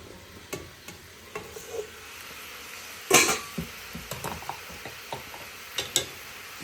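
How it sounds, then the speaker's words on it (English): Vegan African peanut stew with sweet potatoes and tofu being stirred in a pot, with soft scraping and clacking strokes at an irregular pace and a louder clatter midway over a faint, quiet simmer. "Give it a stir."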